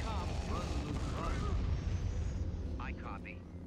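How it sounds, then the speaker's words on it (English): Bombing-strike explosions rumble in the Star Wars Empire at War strategy game, a dense continuous boom and roar of low blasts that fades slightly near the end, with a voice talking over it. "Let's see if we can take out Vader with a bombing strike."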